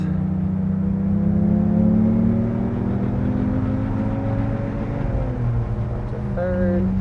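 A car engine drones loudly and steadily on the Sonoma Raceway track, its pitch sliding down and back up through gear changes as the car corners, with someone talking over it.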